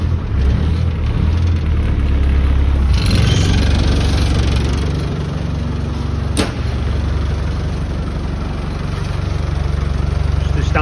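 A 1998 Land Rover Defender 90 Wolf with a 300 TDI diesel engine, reconditioned in 2015, idles steadily with a loud, constant low rumble, while people talk nearby.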